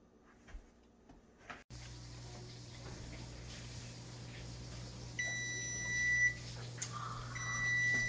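A kitchen oven timer beeps while a farm-style quiche bakes, sounding two sustained electronic tones, the first lasting about a second and the second shorter, over a quiet room hum.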